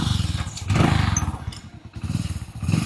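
A motorcycle engine runs close by, its steady pulsing idle rumbling loudly with a few clattering thumps and a brief dip before it picks back up.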